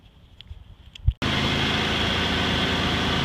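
A cold 1996 Ford F150 engine cuts in abruptly after a few light knocks, then idles high and steady with a continuous, loud mechanical hum.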